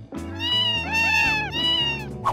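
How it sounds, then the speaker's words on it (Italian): A Savannah cat, a domestic breed, meows in a loud, close, drawn-out cry with rising and falling pitch, heard alone. "il savanna è considerato un gatto domestico"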